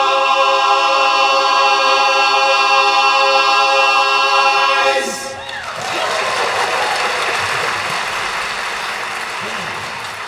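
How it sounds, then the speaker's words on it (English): A live audience bursts into loud, dense applause right after the final chord of a bluegrass band's rehearsal performance, the clapping swelling and sustaining for several seconds at full strength. "It's nice to hear applause at the end too"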